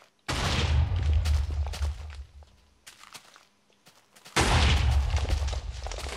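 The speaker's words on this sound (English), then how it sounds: "Frag grenade!" Two heavy frag grenade blasts in a video game boom out loudly, each a sudden broadband burst with a long rumbling tail, separated by a quieter stretch of scattered clicks and thuds.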